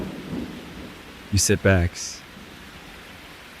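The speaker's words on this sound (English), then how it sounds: "Outside, the rain has lightened." Steady rain outside forms a soft, even hiss of background noise while a voice briefly narrates over it.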